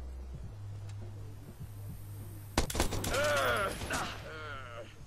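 Sniper fire in the Watch Dogs video game: a sharp broadband crack at mid-clip followed by a burst of rapid shots and mechanical clatter over a steady low game hum, fairly loud.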